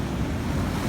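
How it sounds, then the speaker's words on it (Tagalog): Heavy sea surf washing onto a sandy, eroded shoreline just after a typhoon, a steady loud roar of breaking waves blended with wind buffeting the microphone, with no voices. "Kasi malaki ang dagat"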